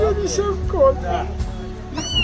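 A small kitten meows in a few short rising and falling cries under steady background noise, with someone talking at moments.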